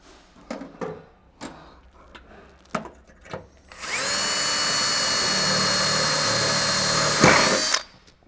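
A handful of sharp knocks and clicks from handling the Dzus rails come first, then a power drill whines loud and close for about four seconds while driving a screw, and it stops abruptly.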